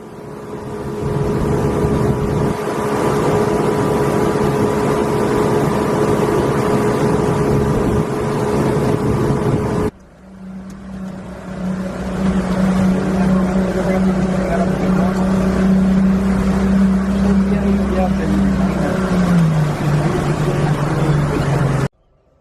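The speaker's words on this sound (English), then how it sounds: "we got the boat from Bocas to the mainland" Motorboat ride from Bocas del Toro to the Panamanian mainland, a loud continuous engine drone with rushing wind and water, the engine pitch shifting partway through and then dropping near the end.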